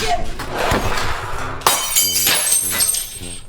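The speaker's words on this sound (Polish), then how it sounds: "szklanka pani wypadła z kieszeni" A drinking glass falls and shatters in Farming Simulator 22, a loud, bright burst of breaking glass with scattered clinks, over game noise.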